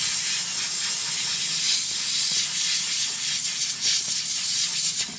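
A mini sand blaster running at 60 PSI strips paint from a spoon, giving off a loud, continuous, harsh hiss of spraying grit that holds steady for several seconds, then cuts off.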